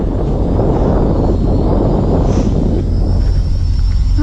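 Wind buffeting a Hubsan H216A X4 Desire Pro GPS drone in flight, a steady loud roaring rush that fills the whole clip with no talking.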